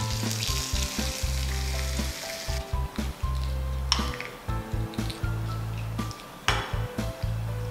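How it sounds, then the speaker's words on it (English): Broken chilies frying with mustard seeds and urad dal in hot oil, crackling sizzle close by with spoon stirring and light clinks against the pan, interrupted by short pauses, no voices. "We need to slightly brown the chilies along with the mustard and urad dal."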